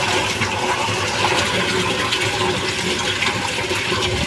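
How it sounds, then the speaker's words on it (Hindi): Water gushing hard out of a small pipe driven by a small motor pump emptying a drum, a continuous loud rushing flow with no letup. "तेजी से पानी आ रहा है अभी।"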